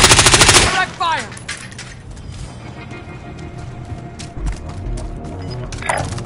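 Gunfire in the video game Warzone opens with a loud rapid burst of automatic fire, followed by mechanical clatter and scattered shots under game voices and radio chatter.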